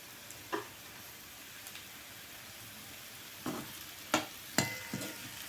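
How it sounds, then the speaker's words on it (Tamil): Grated coconut roasting in a pan for brinjal rice, a quiet low crackle of gentle frying broken by a few sharp spatula taps and scrapes, no voices. "தேங்காய் வந்து கொஞ்சம் நேரம் வேகட்டும், வறுபடுத்தோம்."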